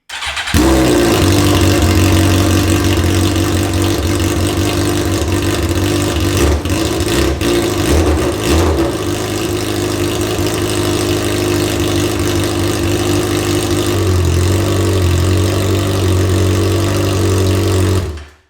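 A rebuilt Suzuki GSXR 1000 sportbike engine runs close and loud, a steady throbbing idle with a few blips of revving early on, continuing alone for over seventeen seconds before cutting off.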